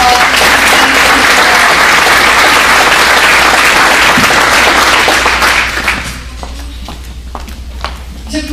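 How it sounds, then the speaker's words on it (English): Loud, dense applause from a crowd at a small business day gathering rolls on for several seconds, then thins into scattered claps and room noise. "If we could give them all a round of applause."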